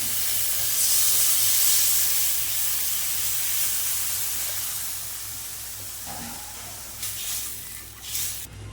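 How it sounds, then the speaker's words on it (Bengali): Water poured into a hot pan of mustard-paste curry for pomfret fish sets off a loud, steady steaming hiss that gradually eases, with a few faint utensil knocks toward the end. "এবার আমি জল দিয়ে দেবো।"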